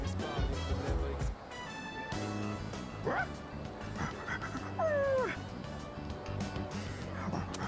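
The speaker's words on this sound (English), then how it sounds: "Puppy Maru wants to go to the movies." Koromaru, a dog in the video game Persona 3 Reload, lets out short yips and whimpering whines amid game music and sound effects, with someone talking over it.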